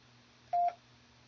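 A single short, steady tone burst from a Winlink sound card auto-tune passing through an AnyTone 578 radio, a clean pitched beep of about a fifth of a second over quiet background hum.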